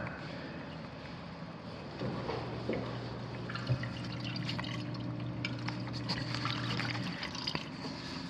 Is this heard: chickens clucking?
no